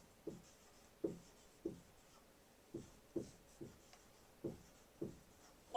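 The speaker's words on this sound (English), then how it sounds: "Look, watch what I'm going to write here." A marker writes on a board in a therapy session, giving about ten short squeaky strokes in an uneven rhythm, close and clear, with no talking.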